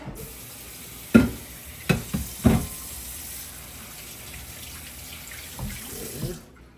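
Tap water runs steadily while a cutting board is rinsed under it, with a few louder splashes and knocks as the board is moved, close and alone with no talk.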